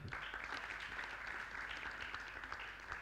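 Audience applause at a Youth Pledge reflection event in Yogyakarta, a steady dense clapping of many hands at moderate distance, continuous throughout.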